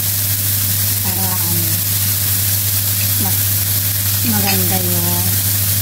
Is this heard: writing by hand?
no